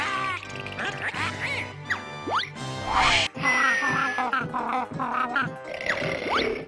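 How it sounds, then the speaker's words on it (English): Wobbly, quacking gibberish voices of the Banjo-Kazooie video game cast chatter in quick bursts with rising and falling warbles, layered over game music at moderate volume. "the charming, if somewhat nonsense, wobbly noises made by the cast of Banjo-Kazooie"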